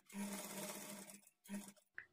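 A sewing machine stitches a blouse body piece at a half-inch seam margin, in two short close bursts of whirring stitches with brief pauses between, ending with a small click.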